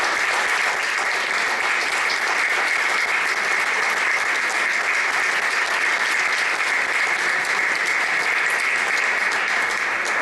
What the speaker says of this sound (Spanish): quiero que les demos un aplauso enorme